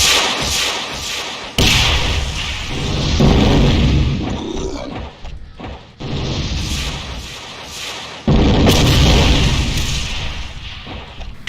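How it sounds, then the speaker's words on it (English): Hellfire explosive rockets from a Hell Baron variant's arm cannon in a Doom mod, bursting as heavy booming thuds with clustered follow-up blasts, three loud waves of rumbling explosions in close succession. "For the right arm cannon, it can fire Hellfire explosive rockets, which emit more explosions upon impact"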